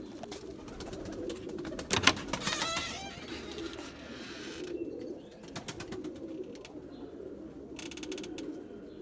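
Pigeons, including white birds, coo and rustle softly at a loft, with a few sharper flutters and bursts over a low, steady murmur of cooing.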